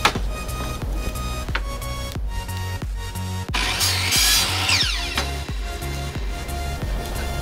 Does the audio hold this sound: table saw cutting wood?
yes